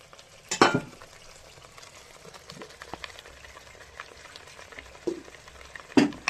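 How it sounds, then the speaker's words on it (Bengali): Mustard powder and chili paste spices frying in oil, a faint continuous sizzle broken by a few sharp spatula scrapes or clanks, quiet and close, without talk. "এবার আমি কষিয়ে নিই"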